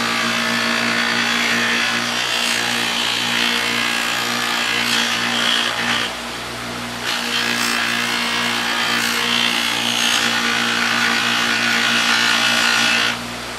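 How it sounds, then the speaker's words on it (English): A buffing wheel without compound polishes an Opel GT gas cap, giving a steady loud whirring hum with rubbing friction that dips briefly midway and then resumes. "I'm going to take this on the wheel that has no polishing compound on it, just to give it a nice buff."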